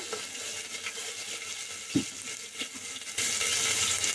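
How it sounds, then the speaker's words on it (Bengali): Whole cumin and garlic paste frying in hot oil while beef is being made, giving a steady close sizzle with stirring scrapes that swells louder and brighter near the end. "আস্ত জিরাটা ভাজা হয়ে গেলে এখন আমি এখানে দুই চামচ রসুন বাটা"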